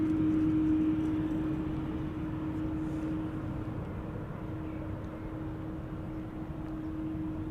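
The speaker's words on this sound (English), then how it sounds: "So this is KLM Flight 741 to Bogota, 7879 Dreamliner" KLM Boeing 787-9 Dreamliner, seven years old, at Schiphol: a faint, distant, steady jet rumble with a thin sustained whine running through it, fading slightly after the opening.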